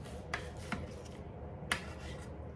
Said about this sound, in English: So I'm just cutting these in bite-sized pieces.